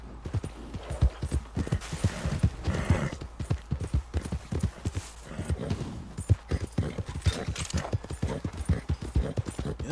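Horse hooves clip-clop in a steady, close rhythm while riding in the Red Dead Redemption 2 video game, loud and continuous throughout.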